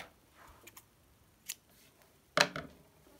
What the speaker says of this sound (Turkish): Bir zincir çekip ipi kesiyorum.